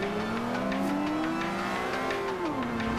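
A Lamborghini Veneno in Forza Horizon 2 drives by, a loud, steady engine tone held high then dropping in pitch as the car passes, with a rough, roaring texture throughout.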